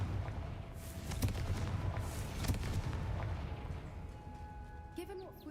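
The Confringo blasting spell in Hogwarts Legacy: booming, explosive bursts and cracks over a rumbling low roar, loud and close, with a few sharp hits repeating before it fades out.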